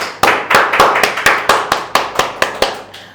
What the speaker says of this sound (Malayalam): സാർ ഇപ്പൊ ആൻസർ പറഞ്ഞ 2 പേർക്ക് നമുക്കൊരു ക്ലാപ്പ് കൊടുക്കണം